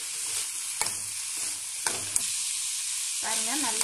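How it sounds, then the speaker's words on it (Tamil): Ponnanganni greens frying in a pan with grated coconut and cumin give a steady close sizzle, broken by a few sharp scraping stirs and a brief higher rasp near the end. "பாருங்க நல்லா வதங்கி இருக்கு."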